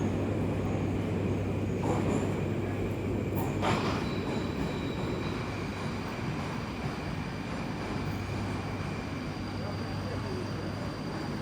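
A Moscow metro train rumbles at Kiyevskaya station, a steady low roar of rolling wagons with a couple of brief metallic squeals, and a faint voice mixed into the noise.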